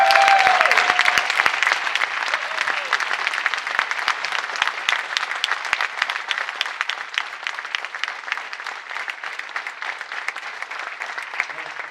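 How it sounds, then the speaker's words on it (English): Sustained applause from a union members' audience at an SEIU gathering in Dayton, a dense, steady clatter of many clapping hands that holds at an even level for the full stretch, with no talking over it. "Stand up and applaud yourselves."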